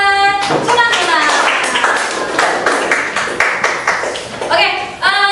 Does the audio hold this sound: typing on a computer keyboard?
no